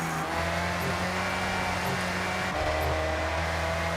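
A car engine drones with steady harmonic tones while driving in Forza Horizon 6, shifting pitch midway as if changing gear, close and continuous without talk.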